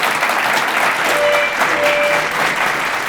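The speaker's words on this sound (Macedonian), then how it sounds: "Аплауз за Роберт." A studio audience gives a sustained round of clapping on a television talk show, dense and even from start to finish, with a few faint voices mixed in.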